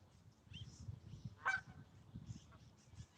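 Geese honk in a dry setting, with one sharp, close honk standing out amid softer calls and low rumbling background noise.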